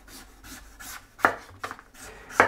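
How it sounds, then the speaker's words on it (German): A knife peels the skin off a pumpkin in close, repeated scraping strokes, several soft rasps then three sharper, louder cuts spaced roughly half a second apart, with no talking. "Und jetzt kann ich den Kürbis ganz einfach vorsichtig hier runterschälen."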